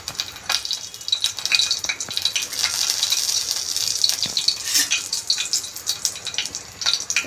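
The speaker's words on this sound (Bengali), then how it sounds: "শুকনো মরিচটা একটু হালকা ভেজে নিলে ফ্লেভারটা ভালো হয়।" Dried red chilies frying in hot mustard oil, a continuous bright crackling sizzle with scattered pops and the odd light scrape of a spoon against the pan, close and fairly loud throughout.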